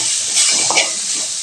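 Grated coconut and tomatoes sauté in a hot pan for mutton curry, giving a loud, steady, close sizzle with a faint stir partway through.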